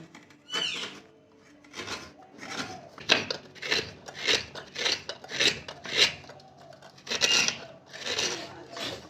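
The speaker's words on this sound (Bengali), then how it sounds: "নারকেলটাকে কুড়িয়ে নেব নারকেলটা আমি এবারে কুড়িয়ে নিচ্ছি" Coconut being grated by hand for dudh puli: a steady series of rough rasping strokes, each a short scraping burst, close and fairly loud, repeating about once per second.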